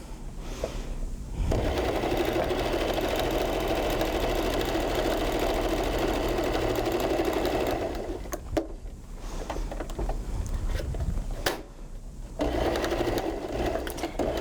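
A sewing machine stitches steadily at close range, with a near-continuous mechanical whir that runs for long stretches and pauses briefly twice before resuming.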